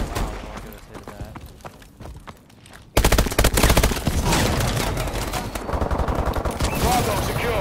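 Dense automatic gunfire erupts in a Call of Duty: Advanced Warfare match, loud rapid bursts after a quieter opening with scattered shots and a steady hum.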